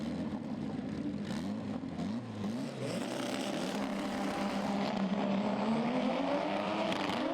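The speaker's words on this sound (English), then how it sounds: "Both cars launching hard" Front-wheel-drive drag cars, including an Opel Corsa, launch hard at a 2018 drag series round, engines rising in pitch as they accelerate away with a loud, sustained, climbing roar.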